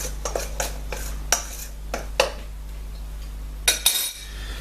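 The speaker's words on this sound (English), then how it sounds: "I'll give that a stir just to mix that around." A spoon stirring curry powder through a lamb shank dish in a pot, a series of sharp metallic clinks and scrapes at irregular intervals against a low steady hum, close and fairly quiet.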